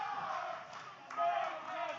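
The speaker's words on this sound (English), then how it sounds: "Listen to the crowd here at Davis Arena." A wrestling audience at Davis Arena fills the space with a steady, dense roar of cheering and crowd noise, swelling slightly midway, heard from within the venue.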